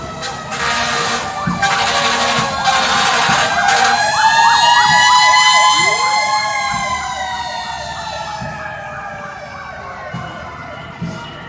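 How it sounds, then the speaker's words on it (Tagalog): A fire truck siren wails loudly nearby, its rising and falling tone sweeping repeatedly. It then fades as the vehicle moves away, with faint voices underneath. "Ay, isa pang fire truck."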